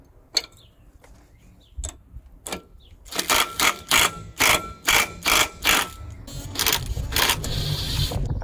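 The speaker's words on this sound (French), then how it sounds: "Donc là je vais pouvoir utiliser cet outil pour virer cette bague." Special tool unscrewing the hub ring nut on a Nissan Patrol Y60/Y61 4x4, with a few scattered metallic clicks and then a run of rhythmic ratcheting bursts, close and loud.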